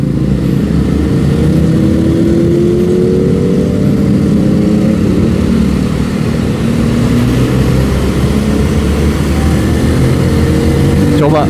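A Benelli Motobi 152 motorcycle engine drones loudly while being ridden through gear changes, with pitch sliding up and down and wind buffeting throughout. Faint talk sits under the engine.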